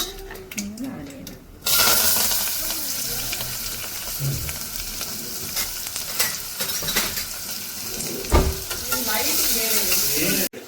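Chopped onion fries in a pan with turmeric powder, making a loud, continuous sizzle with occasional stirring scrapes and clicks; voices talk over the start of it.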